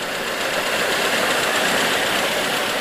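A 1989 Mercedes 230E engine runs with the motor stumbling and cutting out, giving a loud, continuous rough mechanical rumble close to the microphone, with no talk.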